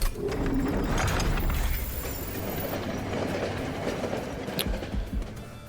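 The train in the video game Monster Train 2 rumbles with a loud rolling clatter and rhythmic clickety-clack, strongest at first and then easing into a steady rumble.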